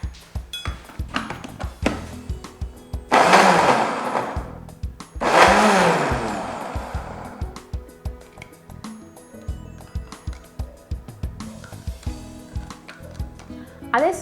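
Two loud whirring bursts from a small electric chopper's motor chopping carrot, a couple of seconds each, with scattered clicks and taps before and after.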